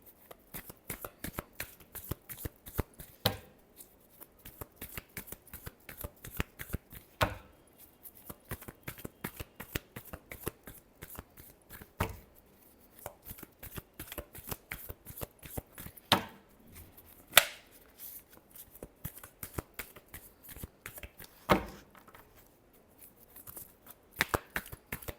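A deck of tarot cards shuffled again and again, with dense rapid riffles and flicks broken by short pauses and a few sharper slaps, close and fairly quiet, with no talking.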